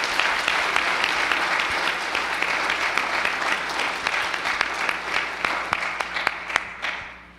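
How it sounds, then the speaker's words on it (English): A church congregation at a worship service applauds high school graduates, loud sustained clapping that thins toward the end into a few distinct claps before fading out. "So if you would just give them another round of applause."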